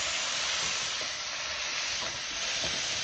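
Ground chuck frying in a little oil on a hot griddle, a dense, steady sizzle with faint scraping of a spatula, close and continuous without speech.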